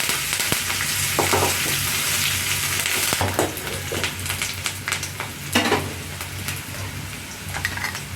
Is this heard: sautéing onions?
yes